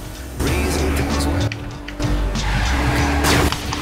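A car in Saints Row the Third skids under the handbrake, its tires squealing loudly over a roaring engine, with a couple of surging bursts across a few seconds.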